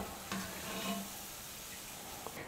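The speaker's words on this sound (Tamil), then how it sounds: "இது போலவே மீதி இருக்கிற எல்லா மாவையும் எண்ணெயில் போட்டு போண்டாவை செஞ்சு எடுத்துக்கலாம்." Sweet bonda batter balls frying in hot oil, a steady soft sizzle with faint stirring clicks throughout, fairly quiet and without talk.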